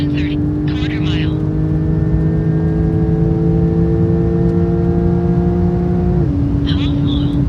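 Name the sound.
high-performance cars launching in a quarter-mile race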